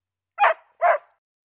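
A pet dog barks twice, two sharp, close bow-wow barks about half a second apart against otherwise silent surroundings.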